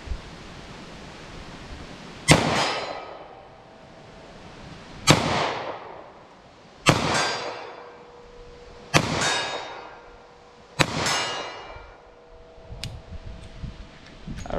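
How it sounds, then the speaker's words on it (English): Sharp shots from a .38 Special snub-nose revolver fired at a target 40 yards away, Hornady Critical Defense ammunition, six loud cracks spaced a couple of seconds apart, each with a ringing tail, heard alone outdoors. "Let's see how our 38 special snub will do, if I can even hit from 40 yards."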